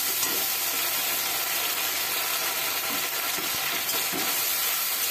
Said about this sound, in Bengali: একটু জল দিয়ে দিলাম মশলাটা কষিয়ে নেওয়ার জন্য।